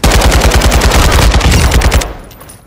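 Heavy machine gun fire in the shooter game DMZ, a loud, rapid and evenly spaced burst of shots lasting about two seconds before it cuts off into a brief quiet tail.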